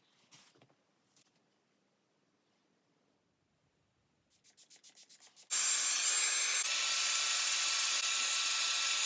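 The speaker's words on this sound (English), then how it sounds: "I've just dried it with a blow dryer with my fingers." A handheld blow dryer drying freshly dyed hair, switching on after a few brief clicks and pulsing bursts, then running as a loud, steady close-up roar that fills the rest of the clip without talk.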